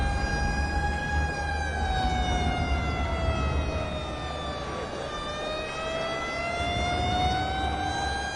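Fire engine sirens wailing in the city-builder game Cities: Skylines, several overlapping tones rising and falling steadily and loudly throughout, with a low rumble of traffic underneath.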